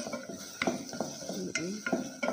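Sautéing in melted butter, with a little olive oil, in a pot for Filipino macaroni soup. A spoon scrapes and clinks against the pot in a quick, steady rhythm over a soft sizzle, close up.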